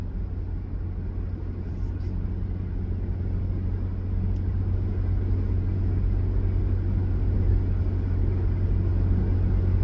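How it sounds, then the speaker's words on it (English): A car drives along a highway at about 65 mph, its tire and engine rumble a steady, moderately loud low drone heard from inside with no talk. "In the highway, driving like 65, the speed limit's 75, but the traffic in front of me is going 65"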